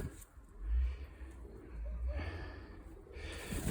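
A pigeon coos in low, soft murmuring bursts close by, two swelling hums separated by a short pause, with a faint breathy rustle around them.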